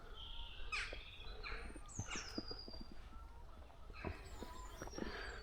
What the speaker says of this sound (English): Here the robins, crows and jackdaws are going on.